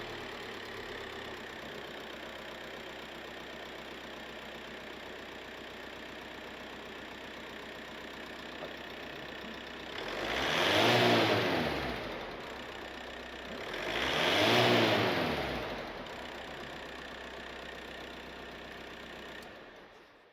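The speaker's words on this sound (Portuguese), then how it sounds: "conseguiram perceber, até pelo som de fundo, que de facto o carro foi acelerado" A car's idling engine rises twice into strong revs during an air mass flow sensor test, each rev swelling and falling back to a steady idle.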